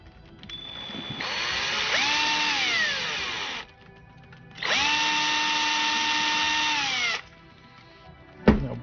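A drill press whines up, holds a steady high pitch, winds down, then runs again in a second long burst, followed by a brief clank.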